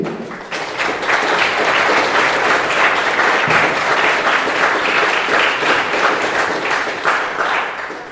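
Audience clapping for two conference speakers at a French-language question-and-answer session, loud, dense and sustained applause filling the whole stretch with a steady even roar of hands.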